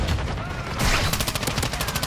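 Gunfire in Call of Duty: Modern Warfare 2, a rapid volley of sharp shots cracking in quick succession, with faint voices mixed in.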